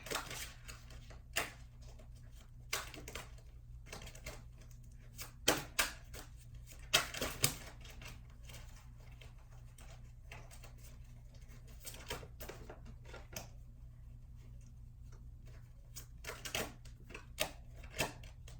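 Tarot cards being shuffled in quick irregular riffles and taps, close and fairly quiet, with a low steady hum underneath and no voices.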